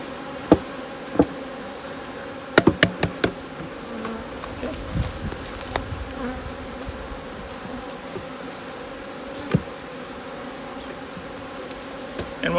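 Honeybees buzzing in a steady hum as they are shaken off a hive lid, with sharp knocks and thumps of the lid being tapped, close and moderate in level, no talk.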